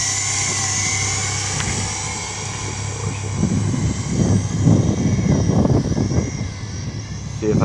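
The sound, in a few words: JJRC H28C quadcopter drone flying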